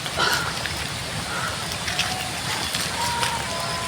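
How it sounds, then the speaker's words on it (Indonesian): Light drizzle patters steadily on surfaces outdoors beside a cooking fire, a soft continuous hiss with scattered drop taps. "Udah gerimis"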